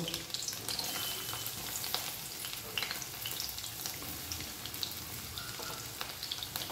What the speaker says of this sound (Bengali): প্রথমে আমি তেল গরম হয়ে গেছে, লঙ্কা কুচিটা দেব, তারপরে পেঁয়াজ কুচি দেব